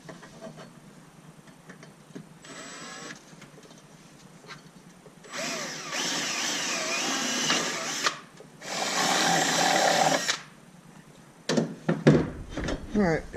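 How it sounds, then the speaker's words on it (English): A power drill bores two bolt holes into a Polaris RZR side-by-side during a radio install, in two loud whirring bursts of a few seconds each separated by a short pause, with quieter handling noises before and after. "I'm going to drill 2 holes right up here for the bolts to go through."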